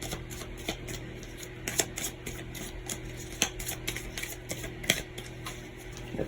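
Rapid papery riffling and soft clicks of cards being shuffled, close and fairly quiet, over a steady low hum.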